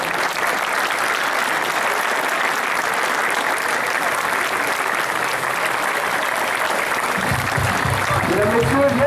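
A stadium crowd at a charity football match in La Ciotat, France, applauds and cheers in a steady, dense roar of clapping, and a voice comes in over a PA near the end.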